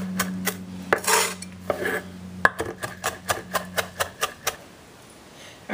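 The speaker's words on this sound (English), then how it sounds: "grabbing a little bit of fresh thyme and doing the same thing. Just rough chopping, rough chopping." Knife rough chopping fresh thyme on a cutting board: a quick run of sharp, evenly spaced taps, about a dozen close knocks, with a few scraping sounds before them and no speech.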